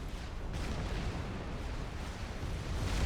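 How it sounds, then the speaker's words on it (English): Artillery fire and explosions rumble in the Supreme Commander strategy game, a dense, continuous barrage of booms and bursts at steady volume without talk. "Explosions going on all the time."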